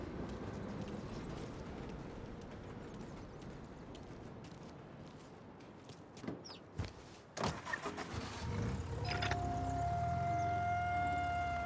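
A car driven in the video game Mafia: Definitive Edition hums with a low, steady engine rumble, broken midway by a few sharp knocks and clunks, then settling into a louder continuous drone with a faint tone.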